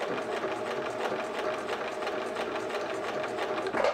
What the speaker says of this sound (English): I'm just going to go ahead and sew here.